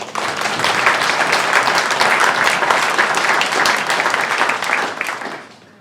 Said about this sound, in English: Give Ruth a round of applause.